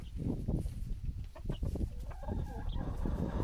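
Young chickens in a small farm coop, clucking and chirping continuously and fairly close, with scattered higher peeps over a busy, steady flock murmur.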